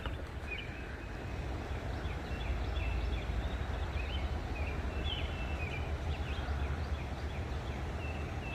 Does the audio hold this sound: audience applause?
no